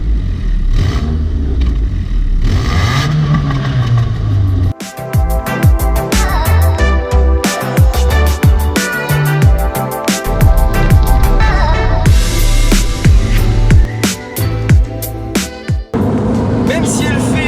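An MPM Erelis car with a small 100-horsepower Mitsubishi engine revs loudly up and down with mechanical clatter, running continuously and close by, with some voices mixed in.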